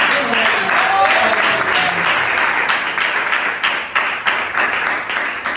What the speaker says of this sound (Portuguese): louve o Senhor com palmas